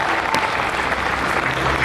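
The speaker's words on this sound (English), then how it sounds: "I think we can clap a little louder for that." Audience applause following the announcement of a foundation's $20 million grant, a dense, steady wash of clapping lasting about two seconds, with one brief louder clap near the start and no talk over it.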